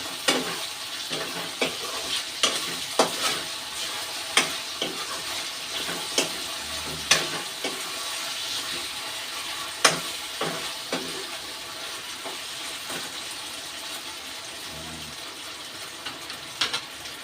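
Chop suey vegetables with oyster sauce are stirred and fried in a pan, with a steady close sizzle and frequent sharp scrapes and taps of a utensil against the pan.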